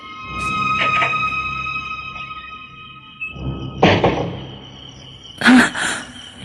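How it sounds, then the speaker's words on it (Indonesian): Door-locking effect for an Indonesian radio drama: a few sharp mechanical clicks and thunks from a lock and door, close and fairly loud, spaced out over a quiet room tone with a faint steady hum, no talk. "Suara pintu dikunci."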